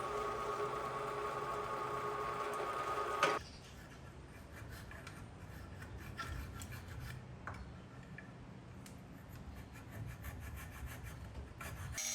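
Rough profiling of an ebony handle for a hand-forged 59-layer damascus bowie knife: a louder burst for the first few seconds, then steady, quiet rasping and rubbing strokes against the hard wood.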